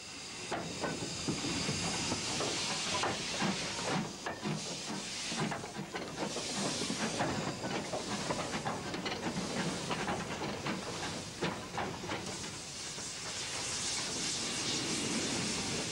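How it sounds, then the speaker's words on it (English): A 2-8-4 steam tank locomotive arrives with a mixed train heading east up the Corgo valley, a continuous loud hiss of steam mixed with rumbling wagon noise and scattered clanks, heard from a distance. "the 284 tank comes in with the mixed going east up the valley"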